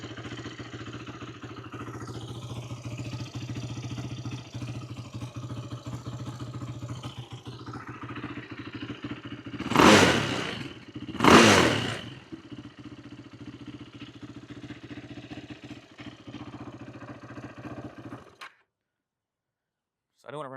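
A pieced-together Yamaha YFZ450 quad idles steadily nearby with a low, even engine drone, interrupted by two short bursts of noise before the engine cuts off near the end.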